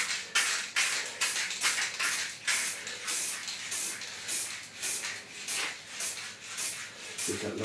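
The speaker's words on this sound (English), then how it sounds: "Carefully come right round at this angle and respray the outer edge." A spray can paints the outer edge of a wooden picture frame in a run of short, close hissing bursts with brief gaps, repeated steadily throughout.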